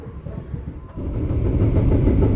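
Airlangga passenger train running on rails, heard from inside a carriage: a steady low rumble and rolling rattle that grows louder and heavier after the first second, continuous with no talk.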